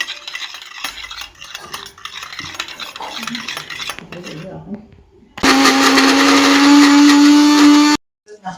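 Mixer grinder whirring loudly as it blends raw mango juice with water in a home kitchen, starting abruptly after some clinking of utensils and quiet talk, running steadily for about three seconds, then cutting off.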